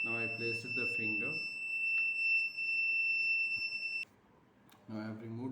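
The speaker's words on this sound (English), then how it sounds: "we are giving buzzer until the finger is stored" A buzzer on a Raspberry Pi fingerprint and RFID voting system sounds a steady, piercing continuous tone for about four seconds, then cuts off abruptly, with a person talking just before it starts and again shortly after.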